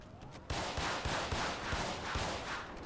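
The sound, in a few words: gunshots in a video game roleplay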